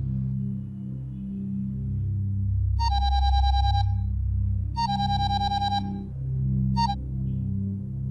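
A telephone rings in electronic bursts, three rings in all with the last one cut short, loud and close over a low background hum.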